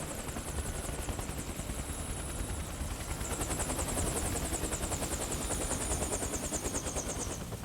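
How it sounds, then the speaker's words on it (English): A helicopter in the video game Metal Gear Solid 4, its rotor chopping in a steady, rapid rhythm for several seconds, loud and close with a whine on top and no talking over it. "The helicopter, so"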